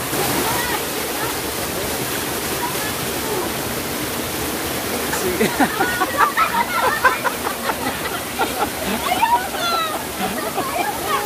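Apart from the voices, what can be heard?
waterfall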